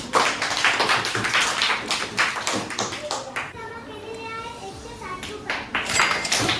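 Third-grade pupils at a Zilla Parishad school clap together in their classroom in several bursts of sharp, close hand claps, with children's voices and chatter mixed in between.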